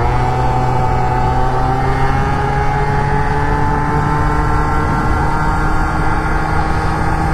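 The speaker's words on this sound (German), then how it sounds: "Der Roller springt mit einem Kick an." A Piaggio Zip scooter's small engine running steadily after a kick start, a close, loud buzzing idle with a constant pitch and no talk over it.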